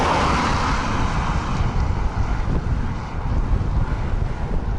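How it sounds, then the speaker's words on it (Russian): A strong crosswind sweeps across an open, flat, steppe-like plain, roaring and buffeting the microphone in a continuous loud rush with faint traffic-like rumble underneath. "И такой ветер боковой."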